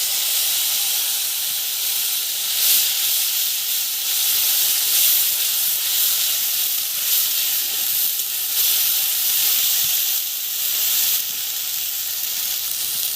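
A ground paste of ginger and green chili fries in hot oil, giving a loud, continuous sizzling hiss that stays steady and close with no voices.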